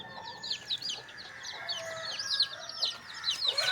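Native country chickens and chicks being coaxed into their coop: high, repeated chick peeps over low clucking, fairly close and continuous for a few seconds.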